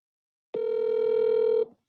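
A single steady telephone ring or tone plays during a prank call, lasting about a second alone after a moment of silence, loud and close with a clean sustained pitch.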